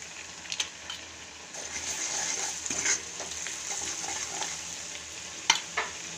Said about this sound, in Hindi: अब इसमें एक तरफ कढ़ाई में प्याज भुने जा रहे हैं और उसमें हल्दी, नमक और मैगी मसाला ऐड किया जाएगा